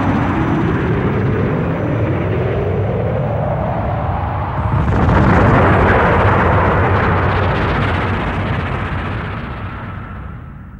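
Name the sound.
spaceship propulsion firing for takeoff, Albator Harlock Saga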